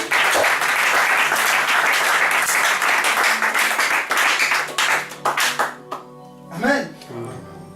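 A church congregation at a Sunday service bursts into loud, dense applause and cheering that holds steady for several seconds, then breaks into scattered claps before fading as a voice resumes.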